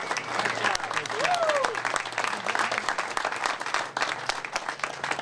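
Sustained audience applause for a group of young people at the reopening of a state fair coliseum, dense steady clapping across the whole stretch with a voice and a whistle-like tone rising briefly above it.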